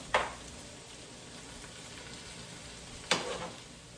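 Potatoes fry in a covered pan with a steady, quiet sizzle, and two sharper crackling bursts come at the start and near the end.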